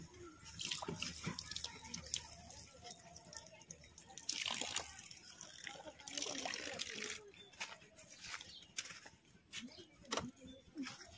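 Water runs from an outdoor tap, splashing and spattering unevenly as someone drinks from it, quiet and somewhat distant, with people talking over it.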